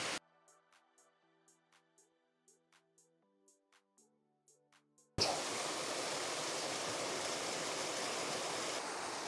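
Enders Falls, running during a drought, gives a steady, loud rushing of falling water that starts abruptly after a soft musical intro of plucked tones and then holds unbroken to the end.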